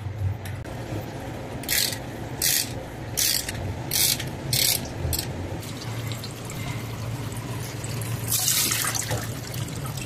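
A ratchet wrench loosens the oil filter on a 2023 Haval H6 2.0. Short clicking bursts repeat at a steady pace, then fade into a continuous wash that sounds like flowing liquid.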